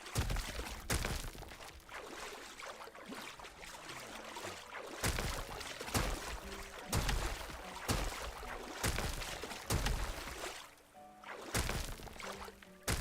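Water rushes and sloshes after terrain is dug away during terraforming in the video game Enshrouded. A steady wash runs under game music with tonal notes and repeated sharp hits, and no one speaks.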